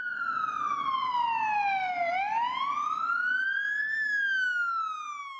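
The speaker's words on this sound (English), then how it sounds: "Can you put your sirens on too for this one?" Police car siren switched on at close range, a loud continuous wail that falls in pitch, then rises and falls again over several seconds, steady and alone with no talk.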